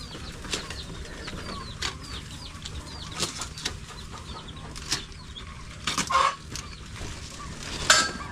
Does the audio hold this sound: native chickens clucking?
yes